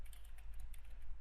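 Quiet computer keyboard typing, a run of light, closely spaced key taps over a low steady hum, with no voices.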